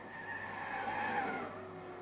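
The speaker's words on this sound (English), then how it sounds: "Unfortunately, couldn't get the power down. Slid out wide there." Race car tires skidding as a turbocharged V8 touring car slides wide at Bathurst in Gran Turismo 6, a steady mid-level screech blended with engine drone lasting the whole moment without talk.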